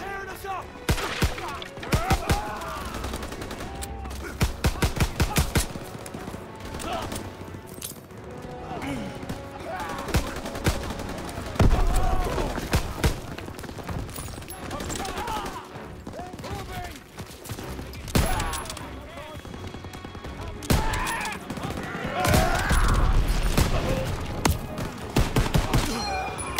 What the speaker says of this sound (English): MGs are tearing us up!